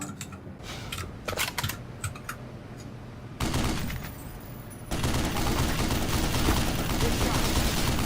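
Heavy .50 caliber gunfire in the shooter game Black Mesa, starting as sparse sharp shots and building into a loud, dense sustained barrage of rapid fire that fills the clip.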